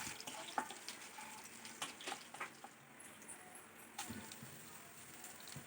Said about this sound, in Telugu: ఆవాలు చిటపటలాడేంత వరకు వేయించుకొని